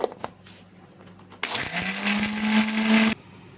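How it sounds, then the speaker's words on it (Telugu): A kitchen mixer grinder whirs loudly as it grinds roasted tempering spices fine for a ridge gourd chutney. It starts suddenly after some faint clatter, runs steadily with a rising pitch for nearly two seconds, then cuts off. "ముందుగా పోపులు అయితే మెత్తగా గ్రైండ్ చేస్తున్నానండి"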